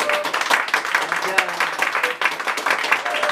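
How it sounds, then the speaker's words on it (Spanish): A crowd at a family birthday party with a mariachi band claps in a steady, dense wash of applause, fairly close, with voices mixed in throughout. "Un aplauso bien fuerte"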